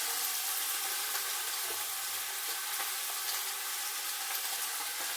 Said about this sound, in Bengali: শিম আলু ভেজে নেব